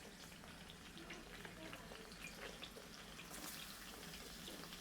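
Onions frying in hot oil make a steady, soft sizzle that stays close and even for a few seconds, with no talking over it.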